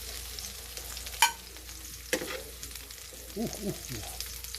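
Oil sizzles and crackles in a pan as beef is fried for Filipino bistek, with a few sharp pops of splattering grease standing out over the steady hiss.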